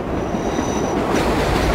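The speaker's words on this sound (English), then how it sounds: "here comes another train" A subway train in World of Subways 4 rolls in loudly at close range, wheels squealing with a high screech that fades midway, then rumbling and clattering steadily, with no talk.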